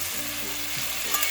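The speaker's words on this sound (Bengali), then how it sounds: "তো এখন একটু নাড়িয়ে চাড়িয়ে আবারও মিশিয়ে নিচ্ছি।" Potato and bitter gourd chorchori is stirred in a pan, a soft, continuous scraping over a faint steady sizzle, quiet and close, with no voices.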